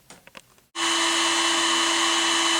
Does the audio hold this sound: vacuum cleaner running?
yes